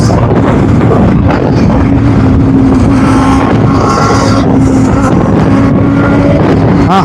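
A group of more than forty motorcycles on a bikers' association breakfast ride along a road, heard from one of the bikes as a loud, constant engine drone smothered by heavy wind buffeting close to the microphone.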